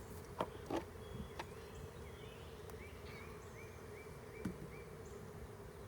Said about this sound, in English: Now, that's a lot of bees. That's a big swarm.